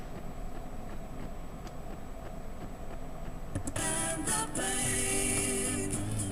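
A vinyl record spins on a turntable with no pickup fitted, its bare needle played through a piece of cardboard. Faint hiss gives way to a thin, scratchy, tinny music that swells and holds for the last few seconds.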